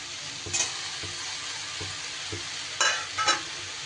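Greens being stirred and fried in a pan, a steady sizzle broken by repeated scraping strokes of a utensil, several sharper bursts of stirring standing out, close and without talk.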